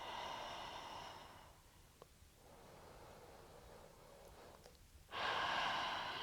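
Soft, slow breathing during a lying-down yoga relaxation, faint airy inhales and exhales rising and falling close by with quiet gaps between.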